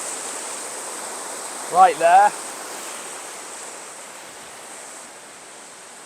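A Welsh river near Llandrillo flows in a steady, broad wash of noise that stays even throughout, with a short spoken remark briefly heard over it.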